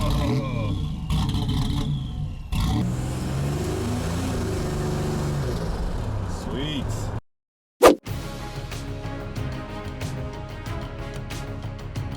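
A 1987 Buick Grand National's engine hums and revs during a test drive, with people talking over the steady motor noise and a brief dropout to silence partway through.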